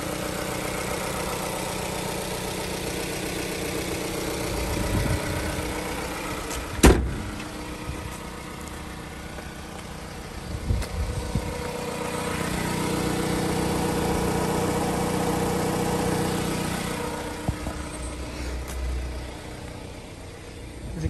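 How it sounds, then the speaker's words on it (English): A car engine idles steadily with a low, even hum, broken by a few brief knocks and thumps; no one speaks. "Engine runs nice and smooth."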